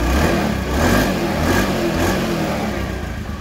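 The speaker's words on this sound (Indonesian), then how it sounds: "Bunyi mesin halus, tidak ada terasa bunyi kasar." A Honda Beat scooter engine runs steadily and smoothly at close range, a continuous mid-pitched hum with slight revving swells and no harsh knocking.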